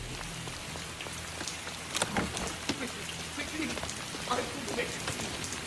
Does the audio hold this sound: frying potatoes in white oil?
no